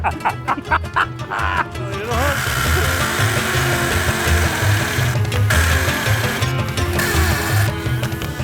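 A power drill whirs loudly and continuously, its motor pitch wavering as it drives into Brazilian hardwood decking, with voices talking over it.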